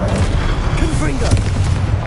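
A Confringo spell blast in Hogwarts Legacy lands as a dense, booming burst over continuous rumbling combat noise, with a voice shouting briefly over it.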